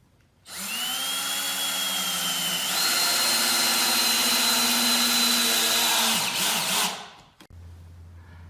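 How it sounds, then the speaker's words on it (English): A cordless drill drives screws into a 4x4 wood post on a raised garden bed, whining loudly and steadily for about six seconds with a rising pitch before spinning down. "I'm just going to simply put 2 more screws on the top, and I'm going to screw it into that 4x4 there"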